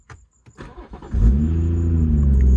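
A BMW M140i with its inline six-cylinder engine starts up after a few faint clicks, then settles into a loud, steady, deep idle rumble close by.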